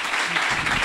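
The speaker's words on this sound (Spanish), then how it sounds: "un aplauso a Charlie" Brief burst of audience clapping during a party drinking game, steady and fairly soft, cut short under a second.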